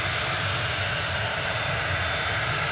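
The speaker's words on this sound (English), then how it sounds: "It sounds like it's turning its engines down now." Steady, loud roar of a passenger plane's engines winding down at Manchester Airport, a broad rushing drone with a low rumble beneath, no voices.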